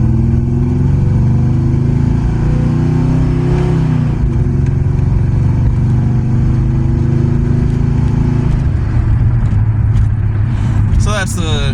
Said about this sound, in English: Now it just downshifted back into first.